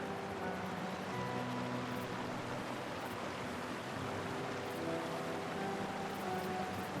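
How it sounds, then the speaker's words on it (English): Waterfall in The Last of Us Part 1 on PS5: a constant, even rushing hiss of falling water, fairly faint and unbroken for the whole stretch, with no voices. "Hear a waterfall."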